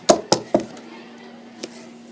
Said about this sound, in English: when I heard a knock on the door